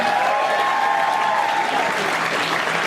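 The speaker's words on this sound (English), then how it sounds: "Let's give them a round of applause." Applause for the organizers at a Bay Area writers' nonprofit event, a dense, even wash of clapping from a crowd that holds steady, with a held voice tone early on.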